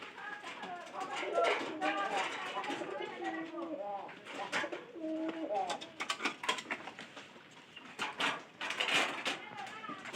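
Pigeons coo repeatedly in low, throaty bursts, close by, with people talking in the background and occasional sharp knocks and flutters.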